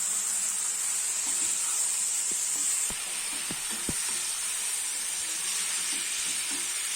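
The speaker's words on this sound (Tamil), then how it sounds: "இதையும் சேர்த்து இந்த சிக்கனோட நல்லா அப்படியே ஒரு வதக்கி விடுவோம்." Chicken sautés with turmeric, chilli powder and coriander powder masala, giving a steady, close, hissing sizzle throughout, broken by a few sharp clicks of a spoon against the pan.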